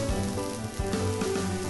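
Bread sizzles as it cooks in the game I Am Bread, a steady close frying crackle with brief tonal game sounds over it and no talk.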